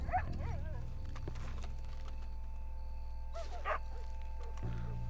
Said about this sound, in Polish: Jest pies